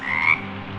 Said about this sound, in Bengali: বৃষ্টির মাঝে ব্যাঙগুলো যেন